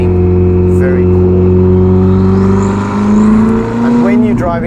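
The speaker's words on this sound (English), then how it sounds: "It's the suspension and it's the exhaust, especially that exhaust note." A Ferrari SF90 fitted with a Novitec exhaust system, its engine holding a loud, steady, droning note, with a brief pitch rise near the end.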